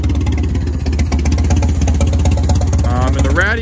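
An old tractor engine with an M&W throttle idles close by in a steady, loud chugging rhythm that continues throughout.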